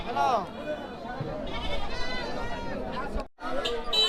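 Goats bleat amid a crowded outdoor goat and old-bicycle market at a ferry ghat in Sherpur, with people talking nearby and general chatter throughout.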